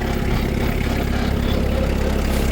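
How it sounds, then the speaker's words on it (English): The Kubota diesel engine of a 2014 Vermeer S800TX stand-on skid steer idles in a loud, steady, even low rumble that holds throughout, with no talking over it. "Has a Kubota diesel engine."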